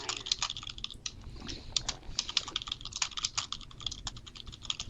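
Computer keyboard clatters with rapid, continuous typing close to the microphone, keys clicking in quick irregular bursts with no pauses longer than a moment.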